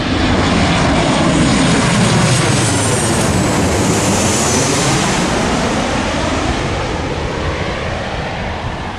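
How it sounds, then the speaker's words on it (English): Loud, continuous airplane engine roar, a broad droning noise with sweeping tonal shifts that fills the whole stretch with no talking. "You hear the plane noise from like 360."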